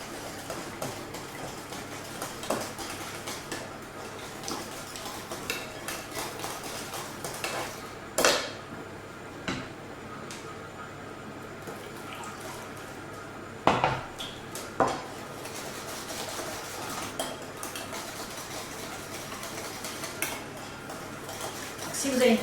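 Crème brûlée custard is stirred in a bowl with a utensil, giving soft intermittent scraping and a few sharp clinks against the dish, with talk running over it.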